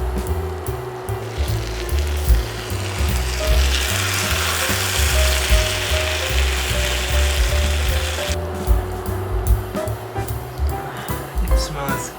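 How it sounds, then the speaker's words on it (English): Chicken chili sizzles steadily and close in a hot pan as it is stirred with added coriander and sesame seeds. The continuous frying hiss runs throughout, with a voice talking over it. "Now we're adding the corianders and the sesame seeds, and we're going to stir it up and finish it up."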